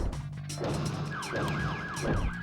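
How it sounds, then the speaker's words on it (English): Police sirens in a back alley street in Hong Kong, a wailing tone rising and falling several times in the background beneath music and clatter. "There's police sirens in the background."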